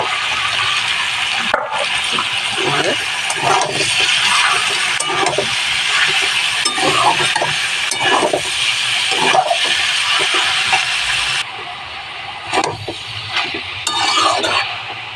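Cabbage is stir-fried with ginger and garlic in a pan: a steady sizzle and hiss runs throughout, broken by repeated scraping stirs at close range, with no talk.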